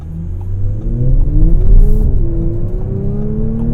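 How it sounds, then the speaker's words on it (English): A 2018 Audi S4 Prestige idles while stopped, its engine revs climbing in sport mode, a loud close rumbling drone that rises and holds. "The revs increase when you're in sport mode,"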